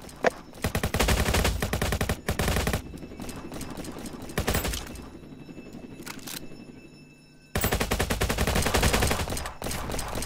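Pistol gunfire in Roblox Jailbreak during a police shootout: rapid loud bursts of shots in clusters, pausing into quieter stretches with scattered single shots, then a long sustained volley near the end.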